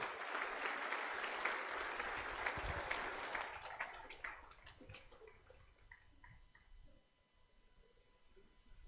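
An audience at a women's convention applauds, a full crowd clapping that thins into scattered individual claps and fades away, fairly distant and quiet.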